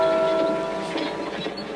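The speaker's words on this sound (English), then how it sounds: "You hear 4 distinct bongs of the clock tower's bell." The clock tower bell in the video game Death Gate rings as a deep, sustained metallic tone that fades slowly.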